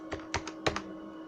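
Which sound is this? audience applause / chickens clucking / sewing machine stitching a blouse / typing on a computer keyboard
typing on a computer keyboard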